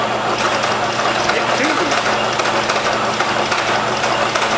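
A high-mileage Volkswagen Touareg V10 TDI engine cranks on a jump pack with a fresh alternator. It makes a steady, loud, rapid mechanical churning that never catches, as if starved of fuel, and the sound holds for the whole stretch.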